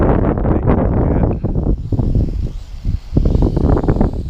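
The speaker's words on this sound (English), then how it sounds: "I'm sort of fighting the wind here" Wind buffets the microphone outdoors while a Huiying Toys X6058 toy drone is flown, loud broadband gusts rushing in uneven bursts close to the mic.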